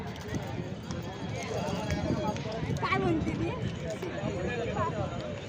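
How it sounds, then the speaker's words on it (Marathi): Bullock pairs running hard in a bullock cart race at Devrukh, Konkan, 2024, a rumbling patter of hooves under loud, continuous commentary and crowd noise. "उजव्या बाजूला पळला आणि बबेच्या जोडीला आज पळणार आहे तो संग्राम"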